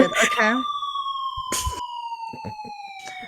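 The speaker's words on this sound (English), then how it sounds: "Edit sirens into the video." An added-in police siren wails with a steady falling tone that runs under the whole stretch, loud and close, while a voice speaks briefly at the start and a few soft knocks follow.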